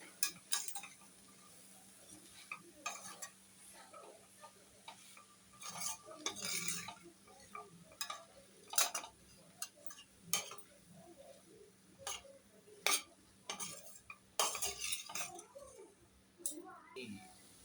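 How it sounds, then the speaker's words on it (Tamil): Vegetable biryani base sautéed in a pan after adding asafoetida: intermittent metallic clicks and scrapes of a spatula against the pan over a faint sizzle, with a voice talking in between. "காயம் போட்ட பிறகு கொஞ்ச நேரம் வதக்கணும்"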